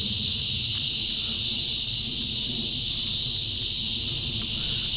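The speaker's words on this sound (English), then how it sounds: "Sorry for the cicadas." Loud, steady cicada buzz drones without pause outdoors at a lakeside park in Sanford, Florida, a dense high whine filling the whole stretch with faint low rumble beneath.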